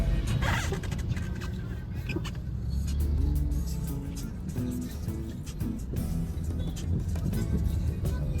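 Road traffic in Rudrapur, a continuous rumble of passing vehicles with intermittent clicks and knocks, moderately loud and close throughout.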